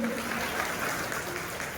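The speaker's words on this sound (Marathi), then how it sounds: "भाऊसाठी एकदा जोरदार टाळ्या झाल्या पाहिजेत" A crowd at a gathering of saints claps for Yogesh Bhau Jadhav in a dense, loud, continuous burst of applause.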